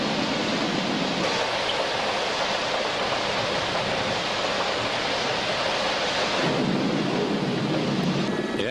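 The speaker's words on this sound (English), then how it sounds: "Kuala Lumpur under rain." Steady heavy rain over Kuala Lumpur roars as a dense, continuous hiss, with a deeper rumble swelling underneath partway through.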